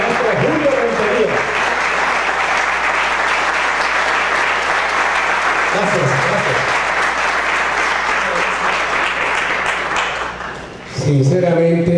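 An audience gives sustained, loud applause for a Colombian musician on stage, steady clapping filling the room for about ten seconds with a few voices over it, then fading as someone speaks.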